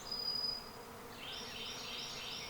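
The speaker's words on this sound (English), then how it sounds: "now they're swarming around the top of another pine tree directly above the bees" A close, steady drone of a honey bee swarm around the top of a pine tree, continuous and fairly loud, with the pitch rising slightly partway through.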